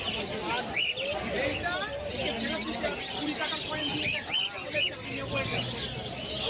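Pet birds at an outdoor pet market, lutino cockatiels and lovebirds among them, chirp and call in a busy, overlapping chorus, with some cooing mixed into the crowd noise.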